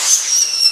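A fireworks cannon fires during a backyard fireworks night, releasing a loud, close, high-pitched whistle that holds steady and dips slightly over less than a second.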